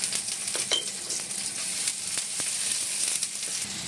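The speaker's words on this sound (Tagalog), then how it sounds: "So, igigisa muna natin, isistir muna natin yung ating onion. Tayong garlic." Chopped onion and garlic sauté in hot oil, a constant close sizzle with faint crackles and a few sharp spatula taps against the pan, no voices over it.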